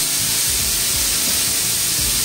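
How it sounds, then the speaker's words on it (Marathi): A pressure cooker cooking potatoes vents steam in a steady, loud, close hiss that runs unbroken for the whole stretch, with no voices. "पोटॅटो सॉफ्ट असे छान शिजण्यासाठी कुकरच्या 4 ते 5 शिट्ट्या होऊ द्या।"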